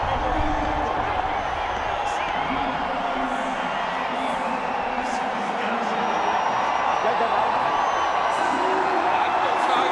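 Large stadium crowd at Chinnaswamy Stadium roaring and cheering after India beat Bangladesh by one run in a T20 cricket match, a dense, sustained wall of noise with scattered whoops.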